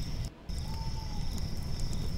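Crickets chirp as an ambient loop in the Koikatsu map editor, a continuous high-pitched trill over a low, noisy background, with a brief dip in the sound near the start.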